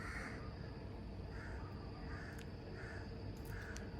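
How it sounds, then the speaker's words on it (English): Crows caw at a distance in a hot outdoor setting, several spaced calls repeating about once a second over a steady background hum. "I thought I would escape Hadedas being out of Africa, but it's only been replaced with crows."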